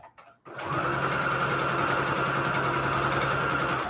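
A sewing machine stitches small crumb scraps of fabric together. Its fast, continuous mechanical hum and rapid needle clatter start after a brief quiet moment and run steadily and close up.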